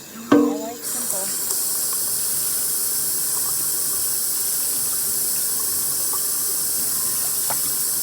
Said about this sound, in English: I have to wash my water bottle quite often